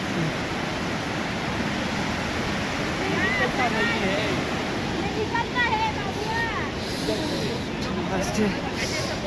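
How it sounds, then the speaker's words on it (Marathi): Hot spring water rushes steadily at the Manikaran gurdwara springs near Kasol, a loud, continuous broadband roar that stays close throughout, with faint chirp-like sounds drifting over it. "इथे तुम्ही बघू शकता गरम पाण्याचे कुंड, हॉट वॉटर स्प्रिंग्स"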